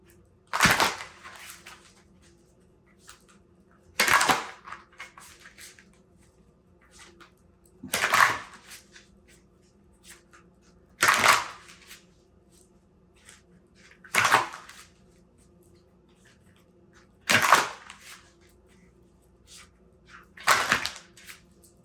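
Tarot cards drawn from a deck one at a time, seven crisp papery slaps or snaps spaced about every three to four seconds, close and fairly loud over a quiet room hum.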